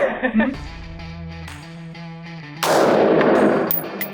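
A single loud rifle shot is fired while zeroing a red dot sight at a shooting range, a sharp blast with a ringing decay that follows someone talking nearby.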